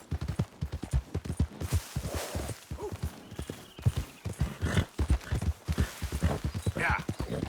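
A horse in the Western open-world game Red Dead Redemption 2 clip-clops along with steady rhythmic hoofbeats, fairly close and clear, while voices talk over the steps.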